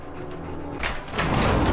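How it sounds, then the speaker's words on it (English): A door slides open in the video game Fallout 4 with a rising mechanical whoosh and rumble that swells and holds steady over the game's background hum. "He just opened the door!"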